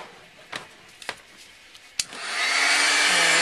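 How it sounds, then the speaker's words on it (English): A heat tool switches on after a few sharp taps and then blows hot air in a loud, steady, close rushing whoosh that carries to the end. "Get your heat tool"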